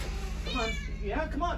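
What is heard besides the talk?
cat meowing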